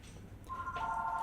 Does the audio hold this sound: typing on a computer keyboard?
no